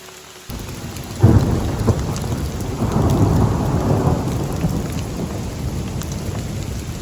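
Heavy rain pours steadily throughout the Avatar Mountains in China, with a loud crack of thunder early on followed by a long rolling rumble; no voices.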